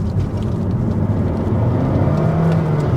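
A Honda HR-V hybrid engine revs up steadily, a loud continuous droning hum that rises slightly in pitch as the vehicle accelerates, with no voices.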